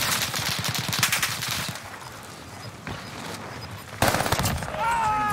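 Rapid bursts of automatic gunfire from a Call of Duty Warzone match on Rebirth Island, loud sustained volleys with short pauses, then a sharp fresh burst near the end.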